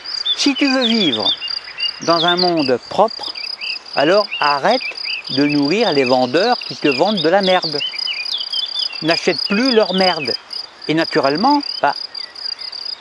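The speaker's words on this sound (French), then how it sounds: "tu écoutes tes grillons" Crickets chirp outdoors in a steady, high, continuous trill that runs under someone talking throughout.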